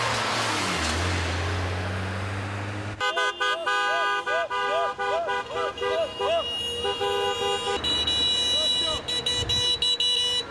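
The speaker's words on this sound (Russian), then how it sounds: "Большинство приветственно сигналят и берут на память желто-голубые ленточки." Car horns honking in greeting along a road, first a vehicle passing, then a long run of rapid, loud, warbling horn and alarm-like toots with some shorter honks near the end.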